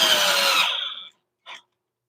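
A power drill drives a screw into wood, a brief high whir that winds down, then a short second burst after a pause.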